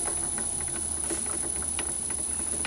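Myford ML7 lathe turning slowly in back gear, a steady mechanical hum with a faint, regular ticking patter and a constant high whine.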